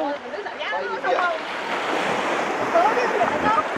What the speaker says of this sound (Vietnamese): Nghe tiếng sóng biển.